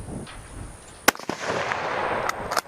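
Two sharp reports from an 8mm Mauser rifle fired outdoors with steel-cased ammunition, one loud crack about a second in and a softer second shot near the end, over faint ambient noise.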